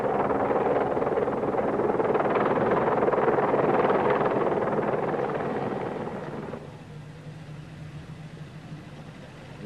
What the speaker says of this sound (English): Whirlwind helicopter. We have hydraulic problems, making a forced landing 1 mile south of Colchester town centre.